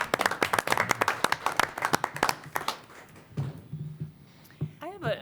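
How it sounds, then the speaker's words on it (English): Audience at a school board meeting gives a short round of applause, claps spaced and fairly close, tapering off to scattered claps with speech taking over near the end. "round of applause"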